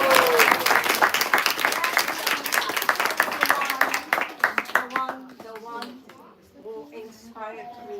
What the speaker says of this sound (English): I think she deserves a round of applause for.